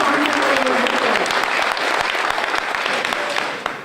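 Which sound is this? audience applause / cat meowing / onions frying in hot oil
audience applause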